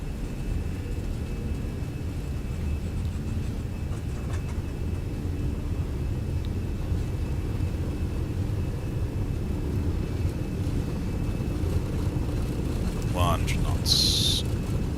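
Steady roar of an Airbus A320's jet engines at takeoff thrust during the takeoff roll from Athens, a continuous low rumble with a thin high whine, beneath a pilot's voice speaking.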